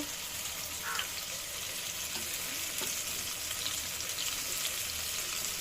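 Fish frying in hot oil in a home kitchen, a steady, even sizzle and crackle that holds at a moderate level throughout, with a few faint clinks over it and no talking.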